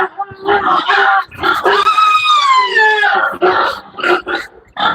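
A pig grunts and squeals loudly and repeatedly up close, with a long drawn-out squeal in the middle and a person speaking over it.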